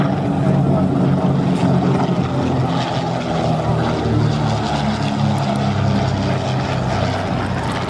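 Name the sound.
replica Percival Mew Gull propeller aircraft flying at Duxford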